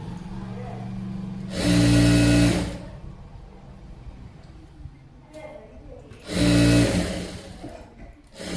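A sewing machine stitches around the neckline of a frock in two loud, close, whirring runs of about a second each, with someone talking between the bursts.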